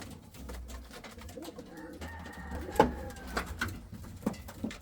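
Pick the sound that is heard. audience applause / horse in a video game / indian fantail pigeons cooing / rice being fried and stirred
indian fantail pigeons cooing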